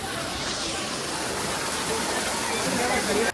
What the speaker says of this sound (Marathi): नंदनकनन जिओलॉजिकल पार्कचा मोठा धबधबा आहे, बघू शकता